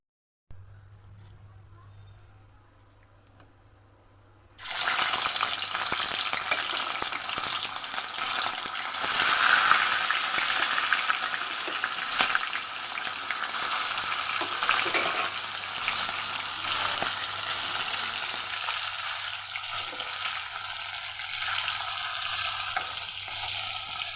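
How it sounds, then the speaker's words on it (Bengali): After a quiet opening, fish marinated in salt and turmeric drops into hot oil and breaks into a loud, steady, crackling sizzle that keeps going close by for the rest of the clip. "এবার আমি নুন হলুদ দিয়ে মাখিয়ে রাখা মাছগুলো কিন্তু আস্তে আস্তে ভেজে নেব"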